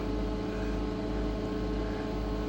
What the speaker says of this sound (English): The ozone generator just fired up.